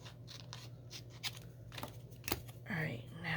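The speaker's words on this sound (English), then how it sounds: "I gotta cut the bunnies out" Scissors snip around pre-cut bunny stickers in a few quiet, irregular cuts over a steady low background hum, with soft paper handling between the cuts.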